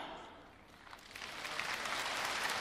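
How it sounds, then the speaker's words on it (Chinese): Audience applause at a live xiangsheng crosstalk comedy show, a broad wash of clapping that swells and grows louder over a couple of seconds, heard from within the hall. "这都是奖励的掌声"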